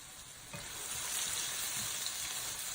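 Onions and flour-coated beef cubes browning in a stew pot give a steady close sizzle that swells slightly after the first half second and stays even throughout, with no talking.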